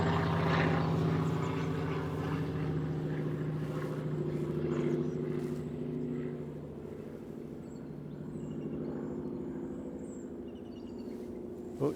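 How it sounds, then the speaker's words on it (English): A propeller plane flies overhead during a June morning bird walk, a steady low droning hum that swells slightly and fades a little, continuous across the whole stretch with no talking. "Plane flying overhead."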